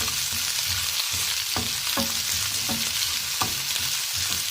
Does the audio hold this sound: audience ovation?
no